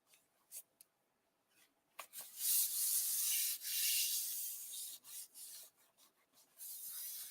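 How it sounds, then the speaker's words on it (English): Paper rubbed around a magnet over wet adhesive makes soft, close scratchy rubbing in several bursts of back-and-forth strokes, with short pauses and light taps between them. "I do like to rub around that magnet a little bit."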